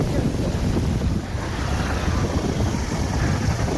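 A boat moves across flood water in a village, heard as a dense rumbling wash of wind buffeting and water noise, loud and continuous with no clear voices.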